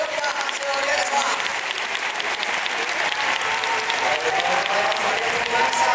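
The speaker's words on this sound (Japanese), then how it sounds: "大きな拍手をお願いします" Audience applause at the Japan men's bodybuilding championship award ceremony, a dense steady wash of clapping from a large crowd that holds level for the full stretch.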